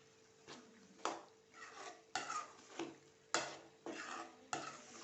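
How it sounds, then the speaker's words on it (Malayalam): A spoon scrapes and stirs jackfruit seeds into a masala curry in a pan, six or seven distinct scraping strokes in an even rhythm over a soft sizzle, close and clear with no talking. "ചക്കക്കുരുവൊക്കെ ഇട്ട് കൊടുക്കാം."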